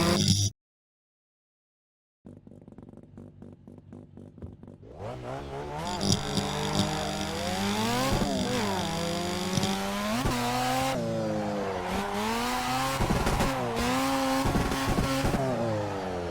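A Mazda RX-7 FC drift car on a touge map in a driving game, its engine revving hard and climbing through gears with wavering pitch and tire squeal, rising after a brief silence and staying loud and steady.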